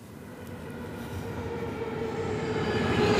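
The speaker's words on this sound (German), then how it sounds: "Nicht jeder ICE aus Berlin fährt durch bis Hamburg-Dammtor." ICE train from Berlin at Hamburg's main station, a steady rolling rumble with a faint high squeal of wheels, gradually growing louder as it draws in, with no speech.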